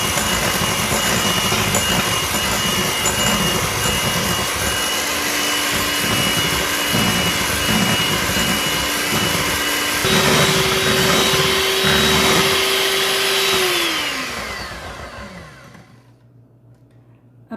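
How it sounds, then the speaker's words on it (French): An electric mixer beats egg whites with sugar and vanilla in a loud, steady whirring drone that holds for a long stretch, then winds down and fades near the end. "Donc je continue de battre les blancs."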